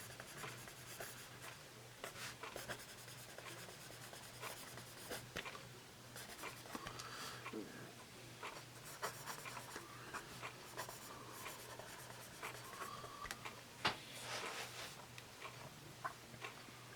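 Bic Xtra Smooth mechanical pencil writing on paper, a close, quiet, continuous scratching with irregular strokes and occasional tiny taps, over a low steady hum.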